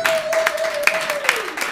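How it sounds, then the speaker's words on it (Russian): Audience applause at a concert by a trombone player and string quartet, a short burst of dense clapping with a steady tone sustained underneath. "Ваши аплодисменты."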